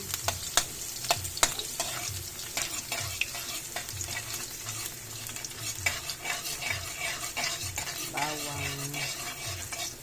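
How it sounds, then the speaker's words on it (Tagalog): Garlic sautéing in hot cooking oil for bitter gourd with eggs, a soft sizzle punctuated by frequent quick clinks and scrapes of a spoon against the pan, close and without speech. "Igisa na ang bawang."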